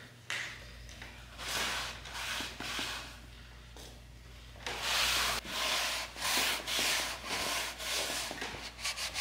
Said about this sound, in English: Using a damp rag to get the excess of sawdust off.